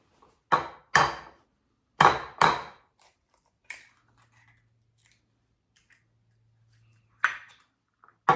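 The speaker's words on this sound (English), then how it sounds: "Grab an egg and crack it. We need 3 of them." Eggs for a simple omelette being cracked, a few sharp, close shell knocks in quick pairs, then quiet with a faint low hum, and one more crack near the end; no talking.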